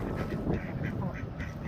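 Ducks on a river, fed alongside geese, give repeated nasal quacks, fairly close over a busy background of birds and water.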